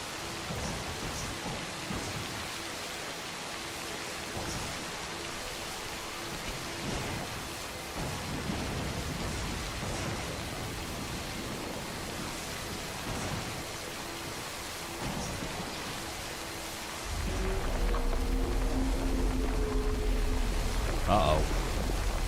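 Timefall rain hisses steadily in the video game Death Stranding while thunder rumbles repeatedly, with a heavier, louder downpour and deep rolling thunder swelling near the end.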